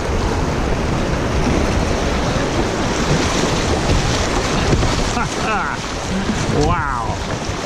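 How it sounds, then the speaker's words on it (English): Whitewater river rapids heard from a raft on the water, a loud continuous rushing roar of churning waves with wind buffeting the microphone and occasional voices underneath. "There's some nice waves in here."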